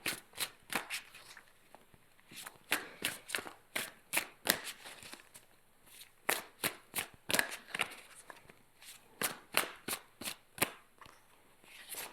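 Oracle cards being shuffled and drawn, a rapid series of crisp riffling card flicks in uneven bursts, close and fairly loud with no talking over them.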